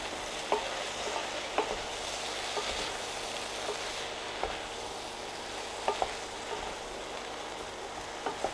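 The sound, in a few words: aubergines and onions stirred and frying in a pan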